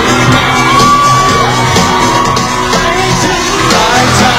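Loud, continuous screaming and shrieking from fans at a concert fills the whole stretch, with high wavering whoops rising over dense noise and music beneath.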